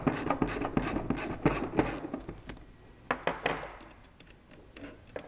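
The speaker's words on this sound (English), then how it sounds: "we're going to pull this nut off. Now this is a 1/2 inch" A ratchet wrench removes a 1/2 inch nut on a C2 Corvette shifter: a quick run of close clicking ratchet strokes, a pause, then a few more clicks with light metallic rubbing, fairly quiet.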